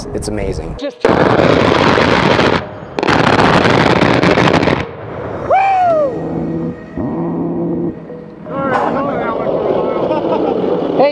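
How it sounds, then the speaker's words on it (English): An A-10 attack aircraft's cannon fires long, loud ripping bursts over a mountain landscape in Afghanistan, each followed by a rolling echo, with a jet whine passing between bursts and people talking and cheering nearby. "You hear it first when it fires, and then you hear it echo from the gun in the sky."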